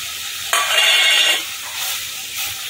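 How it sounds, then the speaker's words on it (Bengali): Boiled potato stirred into frying spice paste in a pan, a sudden burst of loud hissing sizzle that fades after about a second, followed by softer scraping stirs. "একটুখানি আলুটা দিয়ে নেড়ে চেড়ে নেব।"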